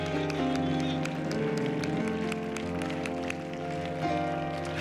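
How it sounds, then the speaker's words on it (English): A church congregation claps in praise during a worship service, a steady continuous wash of many hands under sustained organ or keyboard chords, loud and full throughout. "would you just let this house be filled with a hand clap of praise unto God?"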